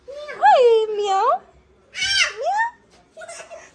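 A house cat meows loudly up close, three long, drawn-out, rising-and-falling cries separated by short pauses.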